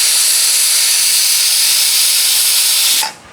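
Pressure cooker releasing steam after whistling, with fenugreek inside: a loud, continuous close hiss that cuts off abruptly near the end.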